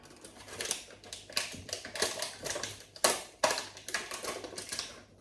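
Pancetta frying in a pan, rapid crackling and spitting bursts of fat, sharp and irregular, close by with a few louder pops.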